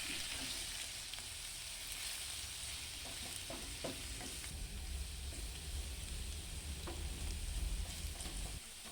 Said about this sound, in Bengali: আলু কড়াইয়ের মধ্যে দেওয়ার পর গ্যাসের ফ্লেমটিকে হাইতে করে দেব এবং নাড়াতেই থাকবো